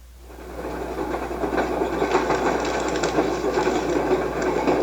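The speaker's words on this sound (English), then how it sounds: "She listened to the chug-chug of the Prescott Express train" A passenger train chugs along with a steady mechanical rumble and rhythmic clatter that swells in over the first second and then holds loud and continuous, with no talking.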